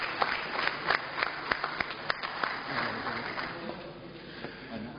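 Scattered clapping at a Vilnius city council meeting, a modest hall applause with distinct claps that thin out and fade over a few seconds.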